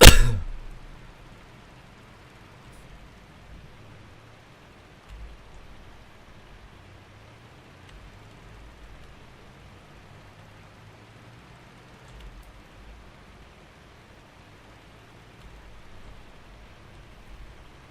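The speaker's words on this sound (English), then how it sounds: "This rain can stop at any time." Rain in Farming Simulator 22 falls as a soft, steady hiss and patter with a few faint low thumps, opening with a brief sharp clang before settling into quiet, continuous ambience.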